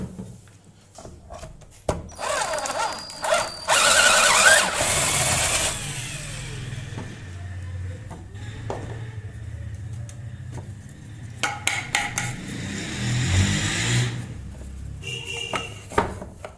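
Power drill boring into a wooden board during precision woodworking, a loud sustained whirring burst followed by quieter motor hum and handling clatter, with no talking.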